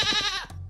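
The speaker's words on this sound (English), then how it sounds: "woolly sheep baaing" A short bleating farm animal call, a woolly sheep baaing, with a wavering nasal tone that trails off, followed by a brief second sound, close and fairly loud with no talking.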